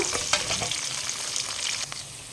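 Long dried red chillies fry in hot oil, giving a loud, close, continuous crackling sizzle with a few sharp pops near the start that eases slightly toward the end.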